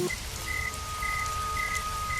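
Steady rain patters over a ghost story's dark night scene, a dense even wash with a faint repeating chirp of crickets threaded through it, no voices over it.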